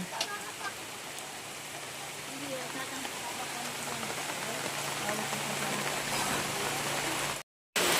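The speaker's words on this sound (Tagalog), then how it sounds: "so sobrang lakas po ng ulan" Heavy rain pours steadily on a nipa hut, a dense, loud continuous hiss of drops on the roof that builds slightly and then cuts off briefly near the end.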